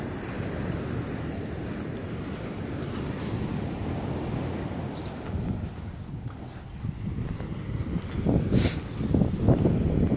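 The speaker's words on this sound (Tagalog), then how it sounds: "Lakti pa ng alon eh." Strong surf at a beach in San Antonio, a constant roaring wash of waves mixed with heavy wind buffeting the microphone, growing louder and rougher toward the end, with no voices.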